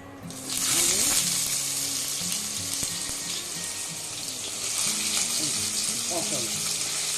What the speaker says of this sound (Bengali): আলু পটলটা ভাজছি